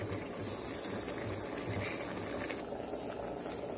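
Spinach curry bubbling in a covered pot, a steady low simmering hiss and burble, close and continuous without pause.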